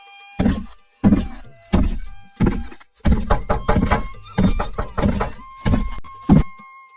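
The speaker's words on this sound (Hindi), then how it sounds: "इतने में बाहर दरवाजा खटखटाने की आवाज आई।" Loud, close thuds and bangs on a door as a story sound effect, coming in uneven bursts, some single and some in quick clusters, with silence between.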